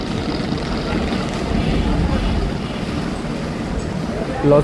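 A passenger launch, the Karnaphuli-14, driven by two Japanese Yanmar marine engines and moving slowly with engine trouble, gives off a steady, loud, low rumble that runs unbroken throughout.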